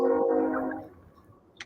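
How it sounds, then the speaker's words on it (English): A train rumbles past on nearby tracks with a steady droning roar that fades out after about a second, leaving quiet background and a brief faint click at the end. "I hear train tracks in the background."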